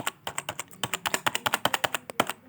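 Rapid, evenly paced key presses on a computer keyboard, shift held with the arrow keys tapped over and over, crisp clicks close to the mic without any talking.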